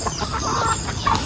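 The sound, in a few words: chickens clucking at chicken house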